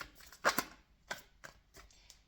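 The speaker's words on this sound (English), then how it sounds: "Okay, one more shuffle." Tarot cards being shuffled by hand close up: a few quiet, crisp riffling bursts, the loudest pair near the start, followed by softer scattered flicks in an otherwise hushed room.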